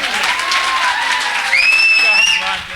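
Steady, loud audience applause fills a Safe Shop gathering in Bundi, with a couple of sustained whistles rising over the clapping near the end.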